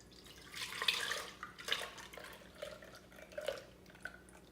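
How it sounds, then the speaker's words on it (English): Ice cream mix for a homemade cookies and cream batch being poured into an ice cream maker, a faint wet splashing and dripping in a few soft bursts, with no talk. "Now we're gonna pour our ice cream mix into the ice cream maker."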